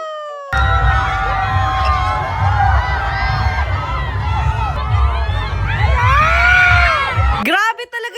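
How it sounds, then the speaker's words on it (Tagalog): At a pageant parade on a hot late afternoon, a large crowd cheers, whoops and screams loudly and continuously, voices rising in excited shouts before the noise cuts off abruptly near the end. "Grabe talaga yung hiyawan dito"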